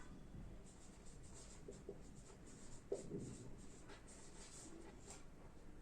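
Pen scratching on paper while coordinates are written, soft intermittent strokes, quiet and close, with a faint background hiss.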